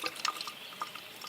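Water squirting from a squeezed hiking water bladder through an open valve, hung high on a trail, heard as soft close drips and small splashy trickles over about a second, quiet and without talk.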